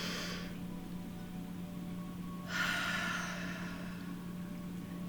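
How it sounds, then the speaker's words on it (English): A single deep breath drawn in during a guided breathing exercise, a soft airy inhale near the start followed by a longer, louder rush of breath midway, close to the ear over a steady low hum. "Big, deep breath."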